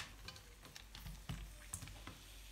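Green courgettes frying in olive oil, a faint steady sizzle with scattered pops and light clatter of stirring, quiet and without talk.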